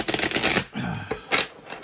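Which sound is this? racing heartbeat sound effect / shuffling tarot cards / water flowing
shuffling tarot cards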